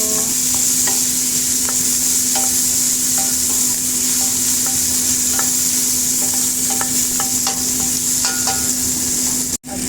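Tomato goes into a hot pan during simple Filipino home cooking, giving a loud, constant sizzle broken by repeated scraping stir strokes, with a clunk at the very end.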